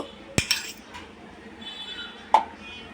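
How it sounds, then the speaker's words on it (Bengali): Utensil clinks against a pan as egg is added bit by bit to semai and stirred, with two sharp metallic taps over a low cooking background. "একটু একটু করে দিয়ে দিয়ে নাড়বো ডিমটাকে।"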